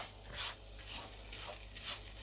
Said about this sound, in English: I'm just stirring it through to make sure it is completely coating, the butter is completely coating the